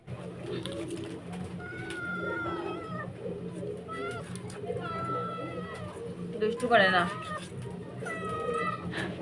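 A cat meows repeatedly in short, rising cries over a low background murmur, with a busier burst of yowling partway through.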